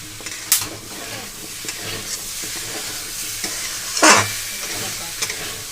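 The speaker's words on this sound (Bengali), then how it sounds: "হলুদ ও লবণ দিয়ে কুমড়োগুলো এখানে বেশ ভালো করে নাড়াচাড়া করে নেব" Pumpkin pieces frying in a pan with turmeric and salt, a steady close sizzle broken by a few sharp scrapes and one louder clatter as they are stirred.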